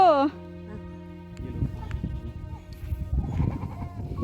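Goats and cattle moving uphill in a village near Gangolihat: one short, clear bleat, after which people talk over faint animal and outdoor noise.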